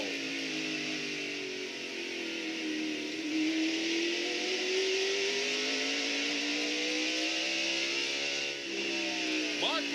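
Mark Martin's race car drones at full throttle on a half-mile racetrack, a loud, steady in-car engine note rising and falling slightly as it rounds the track, with a commentator talking over it.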